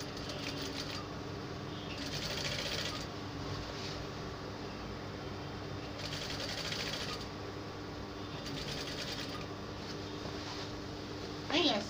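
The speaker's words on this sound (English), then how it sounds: "When you are sewing the neckline," A sewing machine stitching bias binding around a dress neckline runs in several steady whirring bursts of a second or so each, quiet and close, with someone talking throughout.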